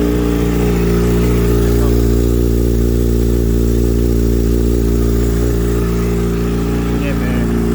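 A Kawasaki ZX-6R fitted with a Racefit exhaust idles after a cold start, a loud, steady, close-up engine rumble with a fast, even lope throughout.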